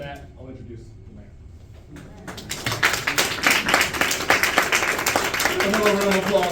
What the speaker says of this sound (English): Another round of applause, man.